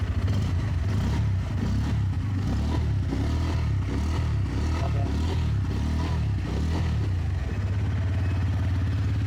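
A Bajaj Pulsar 160 Premium motorcycle engine runs close by, with a steady, throbbing low pulse that swells slightly in a few mild revs before settling back to idle, and no talk over it.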